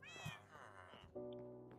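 A Minecraft cat meows a few times up close, its cries mixed in with game background sounds and some talk.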